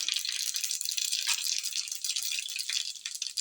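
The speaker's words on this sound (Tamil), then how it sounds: "கடுகு வெடிக்குது" Mustard seeds crackle and pop in hot oil, a dense, continuous high sizzle with rapid tiny bursts, close by and fairly quiet.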